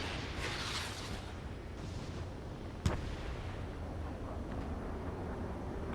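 A missile explosion in the combat flight game Ace Combat 7 lands as a single sharp burst partway through, over a steady roar of jet engine and rumbling noise, with no talk.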